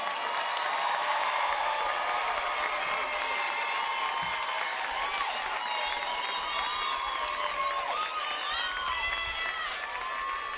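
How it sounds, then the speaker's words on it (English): A graduation audience at a college preparatory academy breaks into a continuous round of applause and cheering, dense clapping from a large crowd with whoops and shouts sustained throughout. "give them a round of applause"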